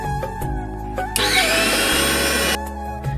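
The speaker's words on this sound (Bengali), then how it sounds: "মশলা গুঁড়ো করা হয়ে গেছে" An electric grinder whirs steadily for about a second and a half as spices are milled to a fine powder for mango kasundi, a mustard pickle, with a low motor hum before and after the loud grinding burst.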